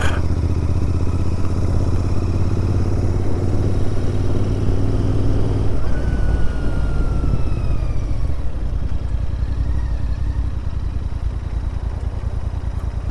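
A Royal Enfield Interceptor 650 motorcycle rides through town around Hoyland Common, its loud engine droning steadily up close. The pitch shifts midway as it changes speed, with road noise throughout and no voices.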